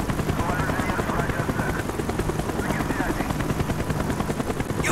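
Helicopter in Call of Duty Black Ops churns with a loud, steady rotor chop throughout, dense and close, with rapid rhythmic pulses and no clear pauses.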